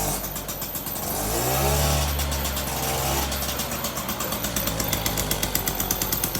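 A Motobecane moped's small engine revved up on the throttle, rising to a loud, strained buzz before dropping back into a fast, rattling idle putter, heard up close with no talking.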